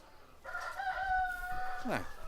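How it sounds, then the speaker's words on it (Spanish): A rooster crows on an eco-tourism farm near Coronel Oviedo, one drawn-out crow fairly close with a falling tail, over faint background noise. "El gallo ahora."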